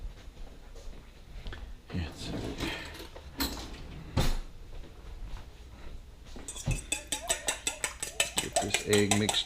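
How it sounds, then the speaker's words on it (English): Eggs are whisked in a bowl for breaded chicken, with scattered clinks of utensil on dish, then a fast, rhythmic run of whisk strokes tapping the bowl toward the end, under a voice. "Get this egg mixed up real good."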